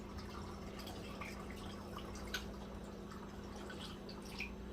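Vinegar and water poured together in a roughly equal mix for a homemade cleaner, giving a faint, steady trickle and drip of liquid into a container, with no talking.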